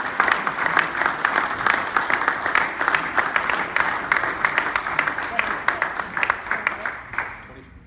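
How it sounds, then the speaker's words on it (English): Audience applause fills the room after an Iowa governor's YMCA Appreciation Month proclamation at the Muscatine YMCA, steady dense clapping with sharp individual claps standing out, tapering off at the end. "This is when you clap."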